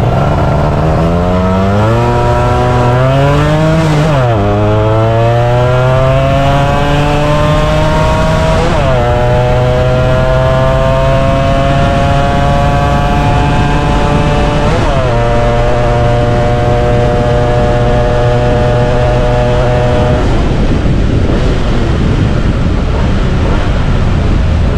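Yamaha F1ZR two-stroke motorcycle engine with clutch and ignition trouble running during a test ride, loud and close, rising and falling in pitch through several gear changes and revs before settling.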